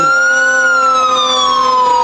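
Siren of the Denver Fire Department's 1992 E1 fire engine in a parade, loud and close, a sustained wailing tone gliding slowly downward, with no talk over it.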